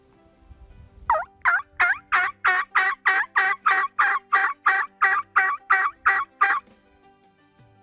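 A loud, raspy yelp series from a hand-operated turkey call, about fifteen evenly spaced notes in a quick steady rhythm, played alone up close.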